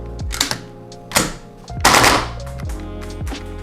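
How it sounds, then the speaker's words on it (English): An ACR rifle fires indoors in a few short, sharp bursts and single loud cracks, spaced irregularly, with roomy reverberation between the shots. "And I don't recommend shooting in the house, but whatever."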